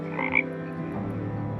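A frog croaks at a door, a short rasping call near the start followed by a lower lingering hum, close and fairly clear with no talking.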